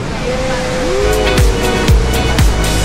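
Waterfall at Hinulugan Tektek, heard as a steady, full rushing roar of falling water with a few faint tonal sounds riding over it throughout.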